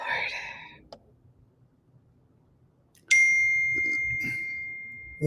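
A phone notification dings once, a bright sustained chime that rings and slowly fades, following a whisper and quiet room noise.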